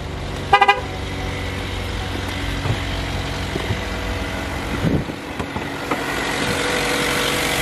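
A used Vauxhall's car horn gives a quick cluster of short pips early on, near and clear, followed by quiet handling sounds and faint background hum around the car at a dealer in Barford, Warwickshire.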